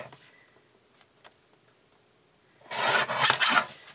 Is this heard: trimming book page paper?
yes